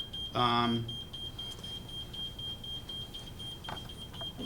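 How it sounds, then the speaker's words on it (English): An electronic alarm beeps in a burst of stacked harmonic tones near the start of a meeting, loud and brief, then fades to low room noise with a faint steady whine. "Hopefully that's not an alarm that we need to address in some way."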